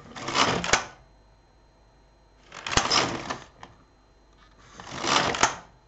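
A knitting machine carriage is pushed across the needle bed three times, each pass a loud raspy sliding clatter lasting about a second, separated by short quiet pauses.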